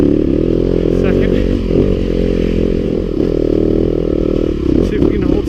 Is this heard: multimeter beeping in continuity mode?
no